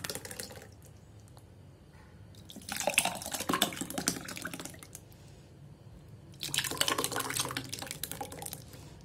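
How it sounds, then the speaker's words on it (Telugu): Thick ragi porridge pours into glasses in two separate bursts of liquid splashing, each a few seconds long, with quieter gaps before and between them. "మనం ఈ గ్లాసుల్లోకి వంపేసుకుందాం"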